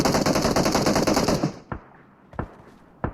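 A rapid burst of automatic gunfire in PUBG Mobile rattles loudly for about a second and a half, then stops, followed by three sharp, more distant single shots spaced apart.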